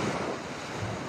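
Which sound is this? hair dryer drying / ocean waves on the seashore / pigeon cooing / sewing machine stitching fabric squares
ocean waves on the seashore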